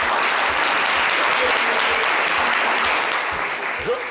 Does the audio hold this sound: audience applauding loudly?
yes